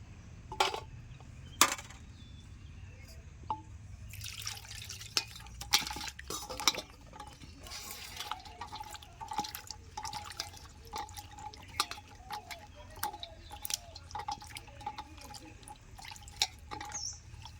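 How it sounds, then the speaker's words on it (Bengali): Tamarind washed by hand in a bowl of water, with soft sloshing, dripping and splashes mixed with light clinks of a metal vessel, close and quiet, continuing steadily without talk. "এখন আমি তেঁতুলগুলিকে ভালো করে ধুয়ে নেব"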